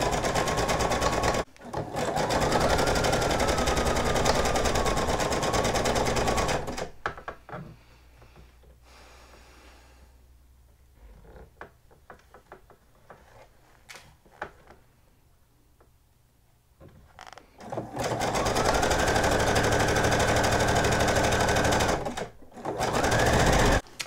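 Sewing machine basting sequin fabric pieces together for a hoodie, running in steady loud whirring stretches at close range with a quieter pause of small handling sounds in between.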